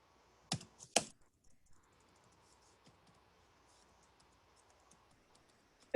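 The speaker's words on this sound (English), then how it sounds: "to switch from text messaging on the phone to typing on a real computer" A few keystrokes and clicks sound on a computer keyboard in a quiet room, with two sharp, close taps near the start, then sparse faint ticks and a final click.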